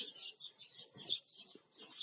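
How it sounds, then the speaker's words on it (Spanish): Small birds chirp outside a window in the afternoon, a faint, thin stream of repeated high tweets with short gaps in a quiet room. "Tengo aquí de fondo los pajaritos que Hashem puso aquí en mi ventana esta tarde"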